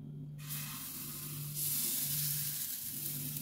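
Hot-pan sizzling bursts in as pancake batter hits a smoking pan, a loud steady hiss that swells brighter partway through and keeps crackling without pause.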